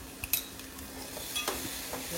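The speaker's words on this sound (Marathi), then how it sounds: "2 चमचे स्वीट कॉर्न घेतलेला आहे आणि याला छान आपण भाजून घ्यायचं आहे।" Two spoonfuls of sweet corn with vegetables are roasted in a pan for pasta. A spoon stirs and scrapes with a few bright clinks over a faint, quiet sizzle.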